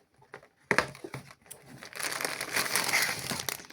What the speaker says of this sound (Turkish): Buradan bantından açıyorum.